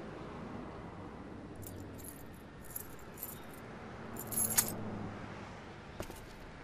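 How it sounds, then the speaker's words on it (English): Keys jangle in a few light, bright bursts as they are handed over, with a sharper cluster of metallic clinks near the end, all fairly faint against a quiet room. "Give me your damn keys"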